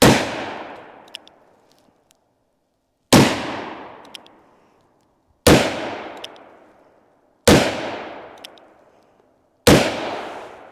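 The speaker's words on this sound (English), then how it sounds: "So we're gonna shoot the 357 Magnum in the front here," Five loud .357 Magnum gunshots fired at the front of a BulletSafe VP3 body armor vest, evenly spaced about two seconds apart, each a sharp crack with a decaying echo.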